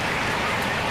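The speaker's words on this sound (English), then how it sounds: "even though it is raining" Steady rain falls close by a house porch, a continuous even hiss of drops on surfaces with no voices and no breaks.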